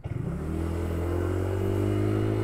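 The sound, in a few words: motorcycles passing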